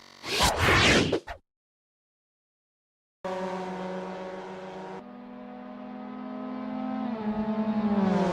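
Mazda MX-5 race cars drifting through the Roval at Charlotte Motor Speedway in a racing video game: a loud swoosh passes first, a silent gap follows, then a steady engine drone holds and rises in pitch toward the end.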